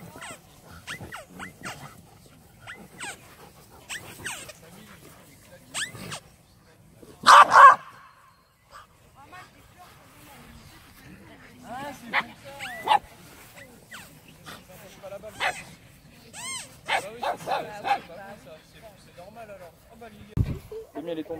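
Dogs at a park, including a bulldog, with sporadic barks and yips scattered among frequent French conversation, one sharp loud bark burst standing out near the middle.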